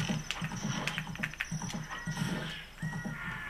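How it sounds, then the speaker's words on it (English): Horse riding in the video game Zelda: Ocarina of Time, with rhythmic clip-clop hoofbeats at a steady gallop, a whinny and small game chimes, alone and moderately loud. "now just kind of ride your horse through these little bushes."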